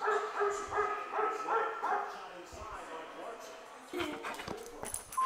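A Google smart speaker plays recorded dog barks indoors, a quick run of repeated barks followed by people talking over clattering household noise.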